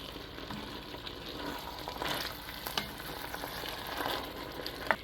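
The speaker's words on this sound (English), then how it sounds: "Let's give this a really good stir." Tomatoes, tomato paste, oregano and black pepper are stirred into a pot of lentil soup, making a faint, continuous sizzle with soft scraping and stirring sounds, and one sharper knock near the end.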